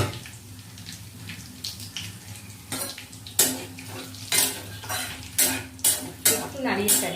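A utensil stirs whole cumin, bay leaf, cinnamon, cardamom and cloves in hot oil in a pan, giving repeated scraping, clinking strokes in an irregular rhythm over a soft sizzle.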